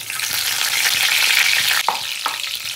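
Vegetables and ginger-garlic paste frying in oil, a loud, dense close sizzle that carries on steadily, with a couple of spatula scrapes and knocks near the end.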